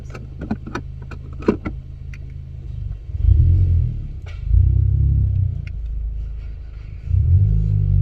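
Honda Civic Type R with an engine misfire, running close by with a deep uneven rumble that swells in several surges, after a few sharp clicks and knocks at the start; no talking.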